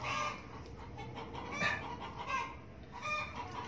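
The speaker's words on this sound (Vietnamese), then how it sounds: "sẽ có cái tiếng ồn của gà nó kêu đấy" Chickens cluck and squawk repeatedly from a farmyard, a busy, moderately close flock of fowl over steady background noise, with no speech.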